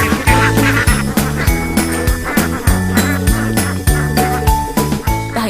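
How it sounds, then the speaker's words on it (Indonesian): Alabio ducks penned in a netted lanting enclosure on swamp water quack loudly and repeatedly in a rapid, overlapping chorus, close by. "Cukup bermodalkan jaring untuk memagari puluhan itik."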